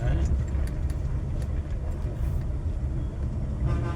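Busy road traffic with auto rickshaws and other vehicles in Tamil Nadu, heard as a constant dense rumble of engines close by, while someone talks over it.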